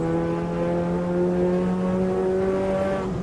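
Race car engine in Automobilista 2 at Kyalami held at steady high revs, a loud droning tone that shifts slightly in pitch and cuts off abruptly near the end, with no other sounds.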